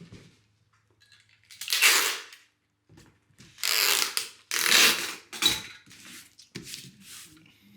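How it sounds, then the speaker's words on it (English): Packing tape screeching off a handheld tape gun in several long pulls as strips are laid across a cardboard bike box, each loud tearing burst separated by short pauses and quieter handling clicks. "Then we grab our tape gun."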